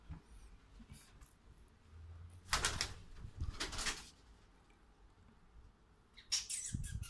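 Pigeons inside an abandoned hotel in Blackpool give a couple of loud, close bursts of flapping and scuffling over a low, hollow room hum, with a further flurry at the end.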